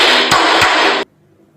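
A drum struck with a stick gives a loud, close, rattling wash of sound with two sharper hits inside it, then cuts off suddenly into near silence.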